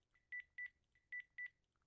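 Phone dialing in the video game BROK the InvestiGator: four crisp electronic keypad tones in a steady rhythm, with a couple of softer blips around them, fairly quiet against a silent background.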